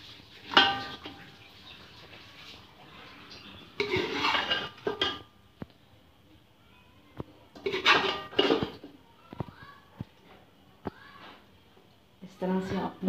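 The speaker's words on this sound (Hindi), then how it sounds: "पहले हम चिकन ऐड करेंगे।" Chicken pieces going into an oiled pot for a masaledar biryani, with metal clatter of pot and utensils in a few bursts between quieter stretches, under occasional talk.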